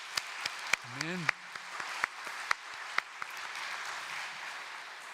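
Scattered claps break out from a church congregation at a children's worship service, sharp separate slaps over a soft bed of applause, with one brief spoken word and a short sung or voiced tone near the start.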